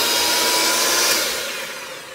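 An electric mixer mashing potatoes gives off a steady, loud, high whirring drone that fades slightly toward the end, with no voices over it.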